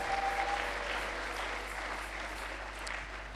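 Church congregation applauding the Lord at a prayer service, a steady wash of clapping from many hands that holds evenly throughout, fairly faint and with no one talking over it.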